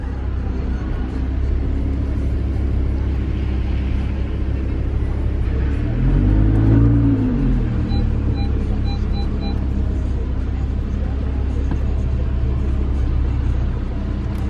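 A Lamborghini idles in a parking area, giving a loud, steady low rumble that briefly swells in the middle before settling back to a constant drone.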